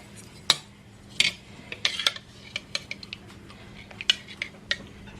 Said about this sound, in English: So let me find a spoon.